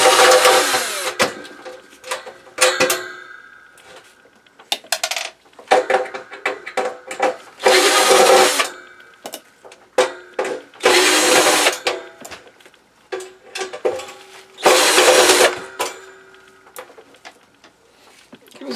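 An electric drill fitted with a large bit whirs in several short high-pitched bursts while removing a grate, separated by pauses filled with clicks, handling noises and a speaking voice.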